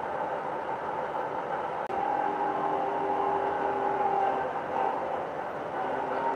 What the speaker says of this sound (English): The coal train that's on the layout right now is like 30 cars.